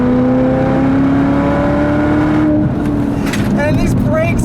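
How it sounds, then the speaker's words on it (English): A 2019 Chevrolet Corvette ZR1 with a manual gearbox pulls hard in third gear. Its engine note climbs steadily and loudly throughout, close and dominant, with a faint voice over the roar near the end. "just a third gear pull, and the front end lifts up, and you just blast off into the future of this thing"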